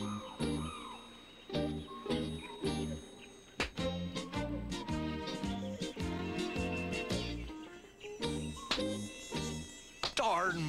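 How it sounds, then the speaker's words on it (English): Cartoon mosquitoes buzz in a whiny, high drone over bouncy, rhythmic music with tinkling accents, the buzzing weaving in and out through the whole stretch. "Darn mosquitoes."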